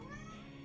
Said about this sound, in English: Got visited by my cat.